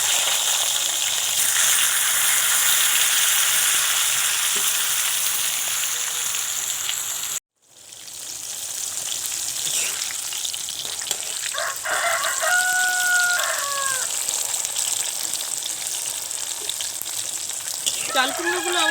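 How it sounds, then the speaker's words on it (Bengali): Ash gourd pieces fry in hot oil with a loud, steady crackling sizzle. The sizzle cuts out for a moment, then resumes while a rooster crows in the background. "এবার আমি ওই তেলের মধ্যে চাল কুমড়োগুলোকে দিয়ে ভালো করে ভেজে নেব।"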